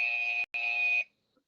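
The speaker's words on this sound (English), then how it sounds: "Tor Tor, you sending us mixed signals on that buzzer" A game show buzzer gives a loud, harsh electronic tone in two bursts split by a short gap, then cuts off into silence, during a school spelling quiz game.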